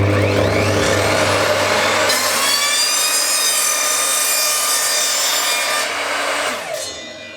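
An Evolution R255 sliding mitre saw spins up with a loud, whining motor and cuts a mitre, a steady rasping roar for several seconds before it winds down.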